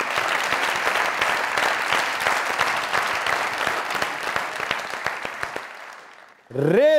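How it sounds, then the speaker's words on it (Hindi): A studio audience applauds warmly for a guest, a dense patter of many clapping hands that runs steadily for several seconds, thins out, then gives way to a voice speaking. "जोरदार तालियां"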